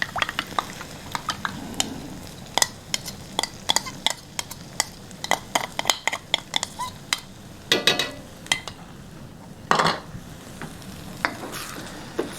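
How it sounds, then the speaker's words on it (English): Mongolian beef with vegetables being stirred in a hot pan, with a steady sizzle and repeated sharp scrapes and clatters of the utensil against the pan, close and fairly loud, with no talking. "I'm gonna stir this one last time before it goes in."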